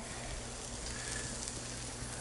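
Steady, close sizzling of asparagus frying in a hot cast iron pan, a continuous crackling hiss with no talking.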